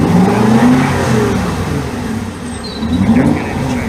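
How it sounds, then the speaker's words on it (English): Exhaust of an Aston Martin V8 Vantage fitted with a remote-controlled exhaust valve module, revving loudly and close with a raspy, crackling rise and fall repeated twice. "Introduce that little bit of a crack, a little bit of rasp in the exhaust."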